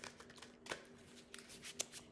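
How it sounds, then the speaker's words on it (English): A tarot card deck being shuffled close by, quiet riffling and flicking of cards in short uneven bursts with no talking. "So the more I shuffle it, the better it's getting."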